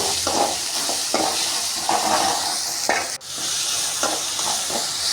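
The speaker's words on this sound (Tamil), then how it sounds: "பூண்டு போட்டு தாளித்து இதை கொஞ்சம் வதக்கிட்டு" Garlic frying in a pan: steady frying sizzle with a broad hiss, broken by intermittent stirring scrapes; close and continuous, no voices.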